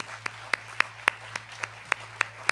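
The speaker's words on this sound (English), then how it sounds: "I think we should all clap for you for that." Sparse, faint clapping at a lecture, with about nine separate claps in a slow, even rhythm, like one or two people clapping alone rather than a full room.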